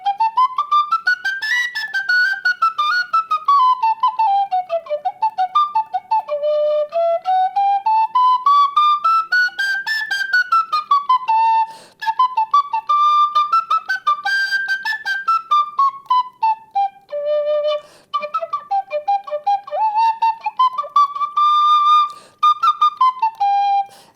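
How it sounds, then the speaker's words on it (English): A penny whistle plays a bright, clear melody alone, notes sliding and trilling up and down in quick ornamented phrases with short breaths between runs. "This is a penny whistle, plays the same way."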